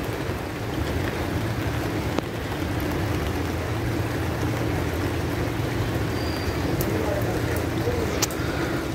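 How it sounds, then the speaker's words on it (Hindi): Heavy continuous rain pours down in a dense, unbroken hiss that stays loud and even throughout, with a faint low hum beneath. "ये देखें बारिश अभी और तेज़ हो चुकी है"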